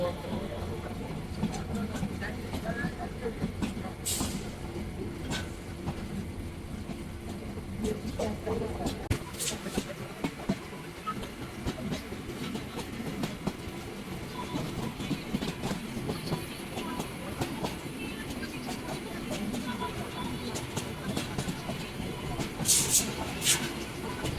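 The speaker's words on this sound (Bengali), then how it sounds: "বিকেল তিনটা পাঁচ মিনিটে মহানগর এক্সপ্রেস ছেড়ে গেল লাকসাম রেলওয়ে জাংশন" The Mohanagar Express, a meter-gauge passenger train, pulls out of Laksam railway junction in Bangladesh with a low rumbling roll and scattered wheel clatter, while people talk nearby on the platform.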